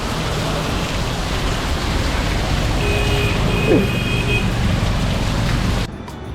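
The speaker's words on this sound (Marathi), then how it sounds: "पाऊस भरपूर आहे" Heavy monsoon rain pours down as a dense, steady hiss with a faint hum of passing traffic beneath it. The roar holds evenly throughout, then drops off abruptly at the very end.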